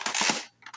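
A Nerf Twinshock Mega blaster fires a single dart with a sharp, close snap and a quick air burst, followed by a faint click.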